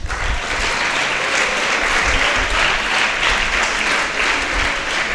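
Audience applause for a poetry-competition prize winner at a weekly discussion gathering, sustained, dense clapping from a sizable crowd that stays loud and even throughout.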